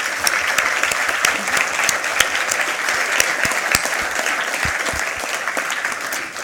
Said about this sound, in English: So Tara, just give her a round of applause.